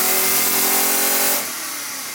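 An air-powered Lego four-cylinder engine runs with a buzzing, whirring hum that drops suddenly to a quieter, lower running sound partway through.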